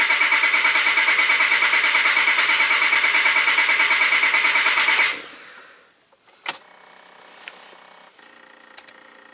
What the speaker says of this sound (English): So let's crank it over for a few seconds.